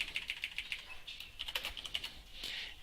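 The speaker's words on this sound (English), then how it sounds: "if I can type." Rapid typing on a computer keyboard while entering code for an XPages unit converter widget: quick bursts of close, light key clicks in irregular runs, with short pauses between groups of strokes.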